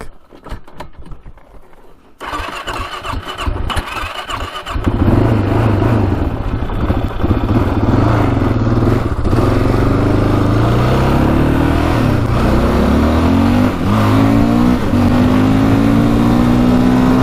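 A high-performance quad engine, billed as the world's fastest production quad, cranks and catches, then idles a little low before revving up into a loud, steady, rising drone that carries on alone.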